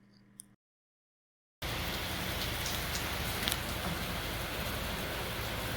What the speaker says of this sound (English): Rainy this morning.